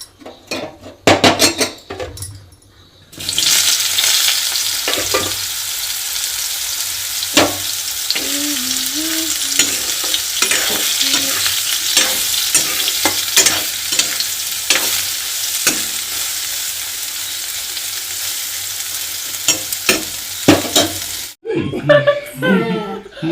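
Masala of tomato, onion and garlic fries in a pan with a steady loud sizzle while a utensil scrapes and clinks against the metal, opening with a few sharp clatters; a voice is heard briefly.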